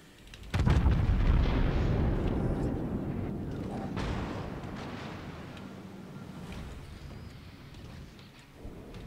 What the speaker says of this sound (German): Das waren seine Torpedos.